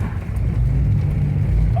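A drift car engine at a drift day rumbles steadily at low pitch, a deep continuous drone that holds its level without clear revving peaks.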